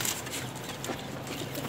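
A large pigeon coos softly amid a dense, constant hiss of background noise, the calls faint and hard to separate from the surrounding din.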